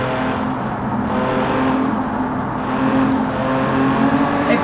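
A car engine in the BeamNG.drive driving game drones steadily and loudly at a sustained pitch throughout, with no breaks and no voices.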